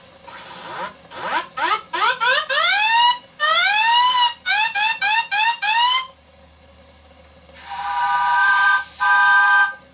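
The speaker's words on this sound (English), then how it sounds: "I thought I'd show me clearing out the water from the siren" The steam siren on a large model showman's engine gives short rising whoops in quick bursts while clearing water, then a longer steady wail near the end, loud and close.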